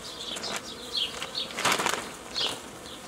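Honey bees buzzing around a hive frame outdoors while a colony is split into nuclei, with several short wingbeat swells rising and fading close by and no talk.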